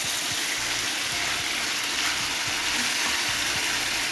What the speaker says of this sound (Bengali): 2 মিনিট ভালোভাবে কষিয়ে নেব